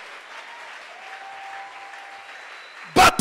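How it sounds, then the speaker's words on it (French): A church congregation bursts into loud applause and cheering for the king, a sudden dense swell arriving near the end after a stretch of quieter crowd murmur. "Est-ce qu'on peut acclamer très fort pour le roi?"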